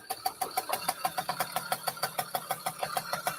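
A freshly rebuilt small engine with new cylinder, piston, rings and bearings runs at a steady idle, giving a quick even chugging pulse, about five beats per second, close and clear.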